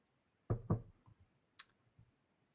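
Computer mouse clicks, two crisp close taps in quick succession followed by a lighter, sharper click a moment later, in an otherwise quiet room.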